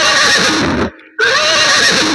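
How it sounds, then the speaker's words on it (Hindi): A black horse lets out a loud, close whinny that breaks off for a split second and then resumes strongly, with no talking over it. "अच्छा, काला वाला घोड़ा तैयार है।"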